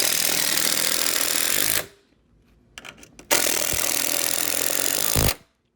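Sawzall reciprocating saw cutting pallet wood to square up a workbench: a loud, harsh buzzing roar for nearly two seconds, a brief pause with light knocks, then another sustained cutting burst that stops abruptly.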